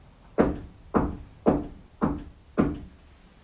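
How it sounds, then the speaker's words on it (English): Five firm knocks land on a wall or door inside the Conjuring House during a ghost-hunting session. The knocks are evenly spaced, close and solid, each with a short dull resonance, and no one speaks. "Are you responding to my knocks?"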